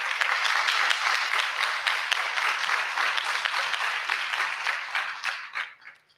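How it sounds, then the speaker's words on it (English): Sustained audience applause greets a speaker at an IFSS live session in Chile, 2022, a steady wash of many hands clapping that tapers off at the end. "Khalil, and applause."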